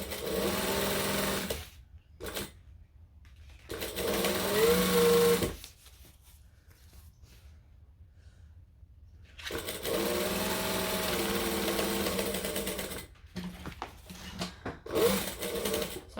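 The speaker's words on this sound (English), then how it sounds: "I'm still just stitching within the seam allowance" Sewing machine stitching inside the seam allowance of a book bag backpack, running in steady bursts of whirring with short pauses between runs, loud and close.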